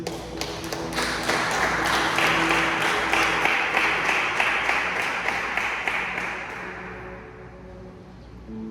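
A church congregation applauding: sustained, loud clapping from many hands that fills the room, then tapers off toward the end.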